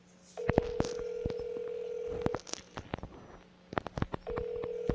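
A phone number is dialed in a video game to call the police. A steady tone sounds twice, each time broken by sharp clicks and quick dialing beeps, with short gaps between.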